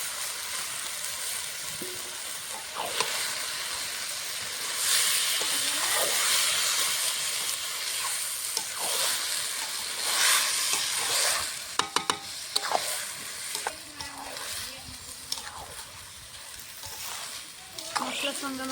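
Soaked jeera rice is sautéed with spices in hot oil for egg pulao, a continuous sizzling hiss with intermittent scraping and stirring strokes, occasional clinks, and a voice speaking faintly over it.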